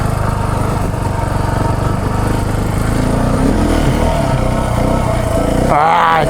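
A KTM 690 Enduro motorcycle engine roars loud and close during a wheelie on winter dual-sport trails, holding a steady throaty drone before the pitch shifts near the end.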